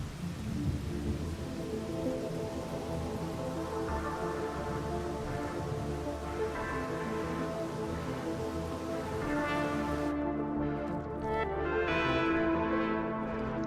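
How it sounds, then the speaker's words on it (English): Steady rain pours in the video game Rain World, a dense continuous hiss that persists throughout beneath loud, sustained music. "just because it's raining now doesn't mean the rain might not get worse later"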